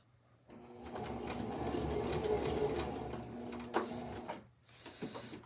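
A Singer Start 1304 sewing machine stitches in one close, fairly quiet run of rapid whirring lasting a few seconds, ending with a few brief clicks and spurts as the presser foot is lifted and the fabric is turned.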